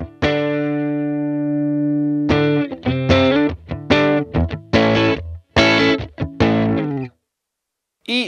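An electric guitar plays through a Fender Mustang GTX100 amplifier with the gain turned down, a cleaner tone. A long sustained chord rings out first, then a run of short, loud, separate notes and chords with brief gaps.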